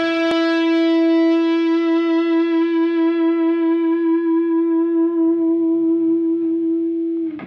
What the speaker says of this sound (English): here comes the absolute supreme discipline, bends with vibrato